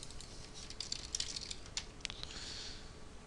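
Computer keyboard typing a search into a website, a quick run of light, crisp key clicks in an uneven rhythm, close and fairly quiet.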